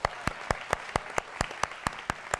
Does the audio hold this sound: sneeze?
no